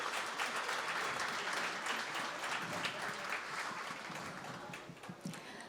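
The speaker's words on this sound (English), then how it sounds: "thank them with a loud round of applause" Audience applause at a community event in Glendale, a dense, steady roar of many hands clapping throughout, slowly easing in the final seconds, with no one speaking.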